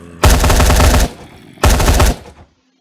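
Crafting Dead gun fitted with a grip and bipod, two loud automatic bursts of rapid shots, each lasting under a second, separated by a short pause and followed by silence.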